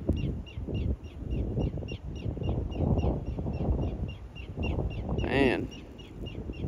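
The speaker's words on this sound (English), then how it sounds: "Something is just chirping away." Steady, high chirps repeat at an even pace over rustling background noise, with one louder, sharper bird call near the end.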